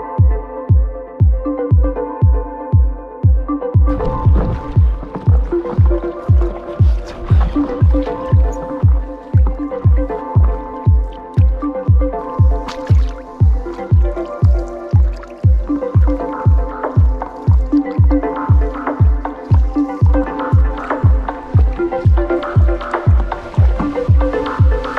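Paddle strokes through water from a paddleboard, a steady rhythm of close splashy dips and drips repeating about every half second for the whole stretch, with no talking.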